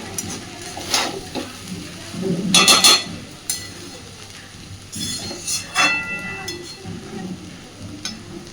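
Leftover cooked rice stir-fried in a frying pan, a spatula scraping and stirring in bursts over a low background sizzle, with occasional metallic clinks against the pan, close and without speech.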